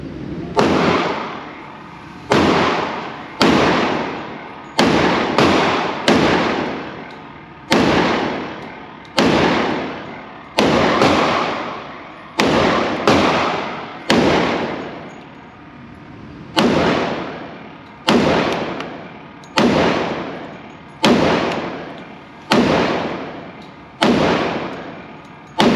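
A Smith & Wesson M&P 2.0 pistol in 10mm firing bear loads: sharp, loud, close shots with echoing decays, fired one at a time in steady strings of about fifteen rounds with short pauses between groups.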